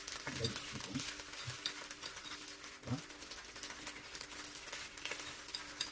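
Vermicelli balls frying in a pan, a steady close sizzle with occasional stirring and clinking of a teaspoon, continuous through the clip with no talking.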